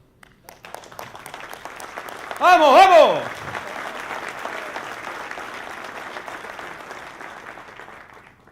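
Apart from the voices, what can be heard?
audience applause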